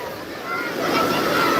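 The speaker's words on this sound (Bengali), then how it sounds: "বিশাল বড় বড় ঢেউ আছে বিশাল বড় বড়" Large ocean waves at Digha beach make a steady, loud, roaring wash that swells slightly as it goes on.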